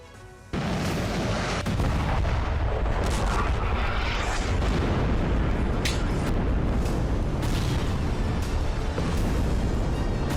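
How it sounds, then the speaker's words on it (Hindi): Bombs exploding on Hezbollah positions in Lebanon, a dense, continuous roar of blasts and rumbling booms that kicks in loudly after a brief quiet start and stays heavy throughout. "हिजबुल्लाह के ठिकानों पर बम बरसाए जा रहे हैं"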